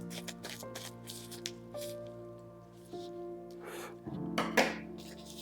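A plastic package holding number plates is cut open with scattered crinkles, rustles and small snips, quiet and close, ending with a louder crackling tear of the wrapping.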